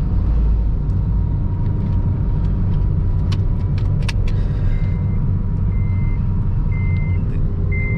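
A Honda Mobilio's seatbelt warning chimes in a run of short, evenly spaced beeps over a steady low engine rumble, with no talking.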